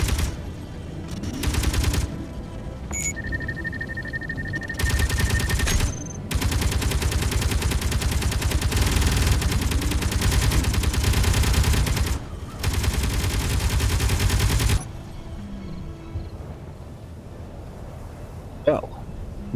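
Automated turrets in the video game Space Engineers fire in long, sustained bursts of rapid shots, loud and steady with brief pauses between volleys, then fall quiet as a voice talks.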